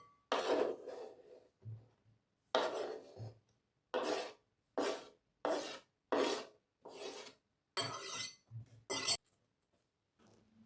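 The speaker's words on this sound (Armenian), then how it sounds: "Հիմա արդեն սկսում եմ քերել ձուն։" A boiled egg is rubbed against a kitchen grater in about a dozen short rasping strokes, each a separate scrape with brief pauses between, close and fairly quiet.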